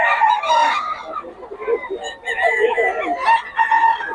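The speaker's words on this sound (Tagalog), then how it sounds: "Ang pakamura ng mga manok ni Boss Gaga." A rooster crows repeatedly amid clucking chickens at a live poultry market in Bocaue, loud and close, with busy bird calls filling the whole stretch.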